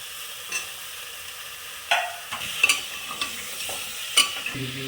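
Chopped tomato and capsicum sizzling in a pan for a healthy chicken stew, with a quiet steady hiss broken by several sharp stirring scrapes and clacks of a utensil.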